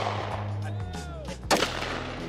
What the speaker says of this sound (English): Joey's letting me shoot his Glock.